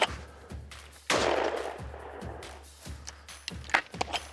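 Shotgun blasts at hand-thrown clay targets outdoors, a loud sharp report followed by a few more shots and their decaying echoes, with brief calls between them.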